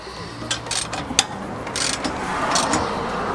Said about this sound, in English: you need a 5/8 socket for these. So I'll just start cranking these down evenly either side.